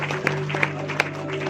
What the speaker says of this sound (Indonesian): Mari berikan tepuk tangan yang terbaik buat Tuhan kita.